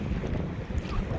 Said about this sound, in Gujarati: પવન સામો છે